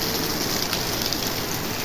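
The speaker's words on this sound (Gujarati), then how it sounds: "બહુ વરસાદ પડે હો" Continuous hiss of rain pouring down, a dense even wash of sound at moderate volume with no voices.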